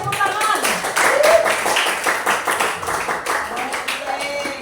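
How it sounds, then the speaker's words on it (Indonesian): A classroom of students claps for a presenting group during a lesson, a steady patter of many hands lasting several seconds with voices talking over it. "Mari berikan tepuk tangan."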